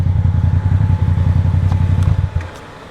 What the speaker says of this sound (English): I gotta stop the bike!